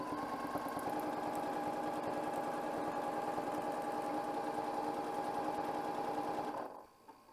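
Sewing machine running steadily while free-motion stitching a circle on a quilt with ruler quilting, a continuous close mechanical whir that stops abruptly near the end.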